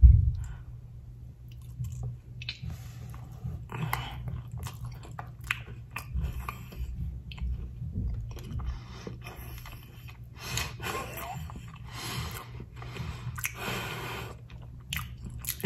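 Close, crunchy biting and steady chewing of a giant Samoa Girl Scout cookie topped with coconut and caramel over a chocolate base, continuous moist mastication with occasional crisp crunches and breathy snorts, no speech.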